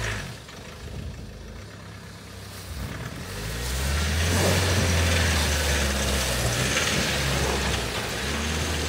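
A car engine rises as the vehicle approaches and grows louder, a steady mid-pitched drone that builds from moderate to strong and holds near the end.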